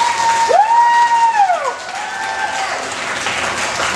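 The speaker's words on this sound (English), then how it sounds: "Let's give him a round of applause." An elementary school assembly audience claps and cheers for a visiting magician, the applause loud and close at first, then easing to a lighter patter, with a gliding whistle-like tone sounding near the start.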